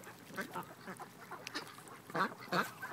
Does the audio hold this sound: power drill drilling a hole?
no